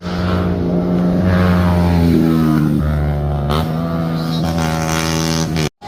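A motorcycle engine revs and roars continuously, rising and falling in pitch, close by, then cuts off abruptly near the end.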